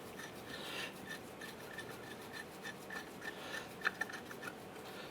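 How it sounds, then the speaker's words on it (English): Bolts are threaded in by hand while a transmission speed sensor is refitted on a 2007-2012 Nissan Versa, giving faint, close rasping scrapes in a quick, uneven rhythm with a few light clicks near the end. "get the bolts started by hand."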